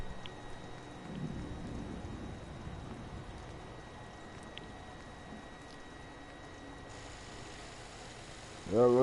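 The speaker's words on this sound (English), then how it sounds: "Now it's raining." Steady rain with low rumbling thunder in the video game Fallout 4, a continuous wash of rainfall with a brief louder burst near the end.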